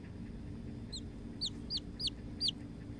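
A chick peeps close by in a quiet room, giving about five short, high, rising chirps spaced roughly half a second apart over a low background hum.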